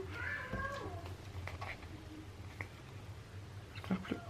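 A small cat stretches out nearby and meows, with several short cries rising above a steady low hum and faint room noise.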